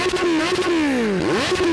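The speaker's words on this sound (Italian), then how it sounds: "Ho deciso di andare sul set in moto." A motorcycle engine hums at a steady pitch, then its tone sags and swoops back up as the throttle changes, close and continuous throughout.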